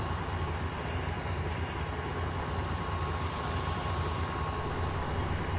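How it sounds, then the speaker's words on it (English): Helicopter flying over farmland in the video game Farming Simulator 17, a steady, dense rotor and engine drone that stays loud and unchanging throughout, with no talk. "I like to use a helicopter, kind of fly around"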